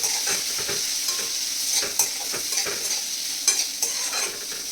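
Soaked wheat kurdai are stirred in a frying pan, with a spoon repeatedly scraping and tapping the pan over a gentle background sizzle, the clatters irregular and close, no voices.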